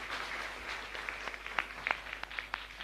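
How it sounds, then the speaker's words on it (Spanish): Congregation at a Catholic Mass in a chapel during a novena to Mary Help of Christians, clapping in a soft, scattered patter with a few sharper claps standing out, fairly quiet and diffuse. "Fuerte aplauso para el Señor."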